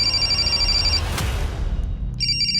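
A telephone rings for an incoming call, a steady electronic ringtone that sounds loud and close, breaks off briefly, then resumes near the end; no one speaks.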